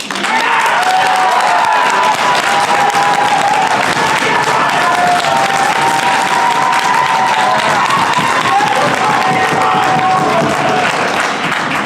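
Town hall audience at the University of Utah breaking into sustained applause, a loud, dense wash of clapping with scattered shouts and voices mixed in, holding steady for the whole stretch.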